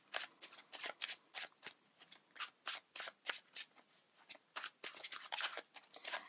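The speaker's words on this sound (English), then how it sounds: "So I'm going to shuffle the cards again" Tarot cards being shuffled by hand, a quick series of about twenty crisp, papery riffle bursts in an uneven rhythm, close and moderately quiet, with no talking.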